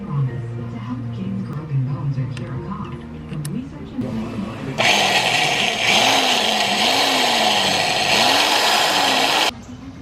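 A power drill boring out a stripped oil pump bolt in a plastic MK6R oil pan, a sustained loud whirring grind starting partway through and cutting off near the end, with lower mechanical rumble and pitch-wavering hum before it.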